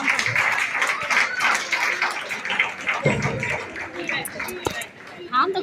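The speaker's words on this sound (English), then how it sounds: "A big round of applause for Tanisha." Audience applause at a school annual function prize giving, steady dense clapping filling the hall from start to finish, with voices mixed underneath.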